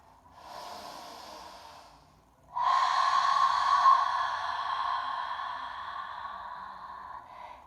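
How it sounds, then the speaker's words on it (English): A person breathing in and out, a softer inhale followed after a short pause by a longer, louder, airy exhale that fades gradually, heard close and alone. "Breathe in and breathe out."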